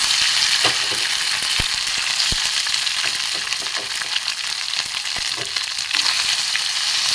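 A fish mixture fries loudly in hot oil in a wok, with a dense, close, continuous sizzle broken by sharp crackles and pops, no speech.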